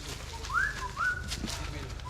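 Two rising whistled calls, each about a quarter second, imitate a bird on Cousin Island in the Seychelles to call it, sounding fairly close over a low steady hum and faint background murmur.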